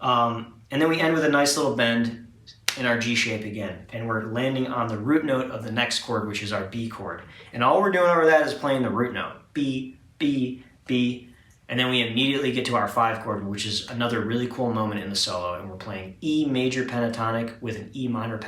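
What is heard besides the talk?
No everyday noise stands out behind the speech.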